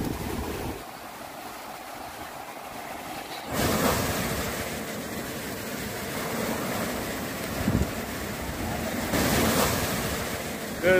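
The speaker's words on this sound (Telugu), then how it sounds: "ఇది ఏడేరా బీచ్ అంటారు" Ocean waves wash onto Ezhara beach in Kannur, Kerala, at sunset over deep blue water, a steady broadband surf with wind buffeting the microphone and swelling louder surges around the middle and near the end.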